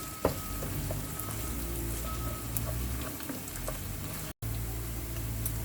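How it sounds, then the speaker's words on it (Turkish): Tomato paste frying in a pan while being cooked down for a Turkish restaurant-style rice pilaf, a steady, close, rain-like sizzle and crackle running throughout, with a brief drop to silence near the end. "Bu yüzden iyice kavuruyoruz salçamızı."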